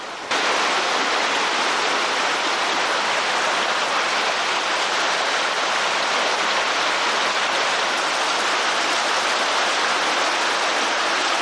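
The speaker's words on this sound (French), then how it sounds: "La pluie qui tombe depuis plusieurs heures amorce une crue souterraine." Steady, dense rain pours down in a cave area where a flood is building underground, a loud, even hiss of falling water with no breaks or voices.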